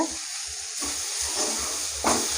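Onion stalks frying in a pan, a continuous close sizzle with a brief louder burst of hiss near the end.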